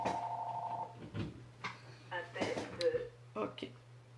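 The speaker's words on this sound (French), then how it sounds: "Je vais éteindre la sonnette de mon téléphone." A phone rings briefly with a short, faint electronic trill at the start, then a person talks and fumbles over a low steady hum.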